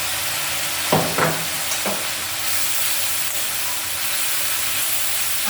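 Fish curry frying in a pan as chili powder is stirred in, a steady loud sizzle with a few brief spoon scrapes and clinks near the start.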